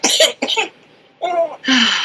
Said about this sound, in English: She just has this damn cough.